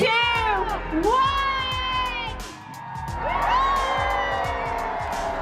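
A crowd of thousands at an outdoor square lighting ceremony erupts in cheers, shrieks and rising whoops, loud and close, swelling in two waves with voices mixed throughout.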